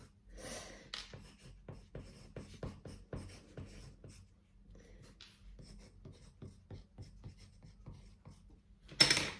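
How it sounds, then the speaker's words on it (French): A pen writes on small 15 by 15 cm cardboard squares, producing quiet, close scratchy strokes in irregular short bursts with a brief pause midway, alone and faint throughout. "je vais écrire sur les cartonnettes au cas où des personnes ne parlent pas français ou autre"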